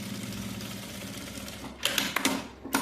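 A sewing machine stitches bias binding onto fabric, a quiet steady hum that breaks into a short burst of fast rattling needle strokes near the end, close, with no talking.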